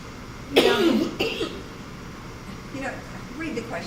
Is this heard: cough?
yes